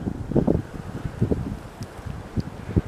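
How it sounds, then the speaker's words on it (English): Strong gusts buffet the microphone on an early-spring forest trail along the Pine Valley Pathway, with uneven low rumbling bursts and rustling, loudest early and again near the end, no voices. "Very windy day"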